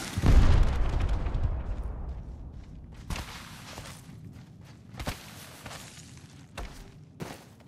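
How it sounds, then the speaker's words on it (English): Missiles launch and explode in the video game Apex Legends: a heavy, close boom opens, its rumble decays, then several sharper bursts crack out at irregular intervals over a quieter background. "Fox 3, launching missiles."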